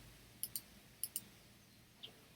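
Computer mouse clicking during work in Affinity Designer software: two quick double-clicks, then a single fainter click, all crisp, close and quiet against a low room hum, with no talking.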